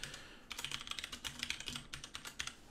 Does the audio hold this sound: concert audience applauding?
no